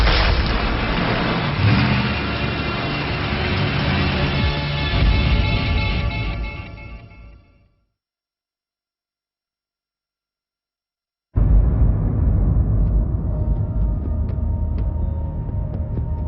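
Vehicle engine running loudly and steadily with rumbling low end, cutting out to silence for a few seconds before resuming at similar strength.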